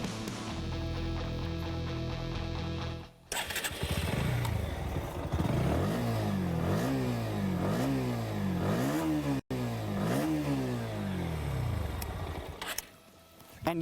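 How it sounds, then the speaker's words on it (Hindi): The exhaust of a Bajaj Pulsar NS 160 motorcycle revs up and down repeatedly in a rhythmic series of close, loud throttle blips. A short burst of other sound plays before the engine starts. "इम्पॉर्टेंट पार्ट दोनों मोटरसाइकिल्स का आपको एग्जॉस्ट सुनाता हूँ वन बाय वन"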